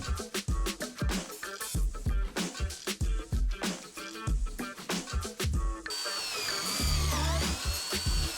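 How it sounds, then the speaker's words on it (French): A power drill bores a hole through a vertical wooden beam for a wooden hammock stand, heard as loud, uneven pulsing grinding bursts up close, then a steadier whining run at the end. "on perce un trou à travers la poutre verticale"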